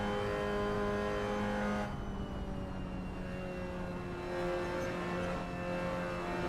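A Mazda MX-5 Cup race car engine in Assetto Corsa holds a steady high-revving drone, dipping briefly as a gear shift or lift breaks the tone, then climbing again, loud and close with no talking.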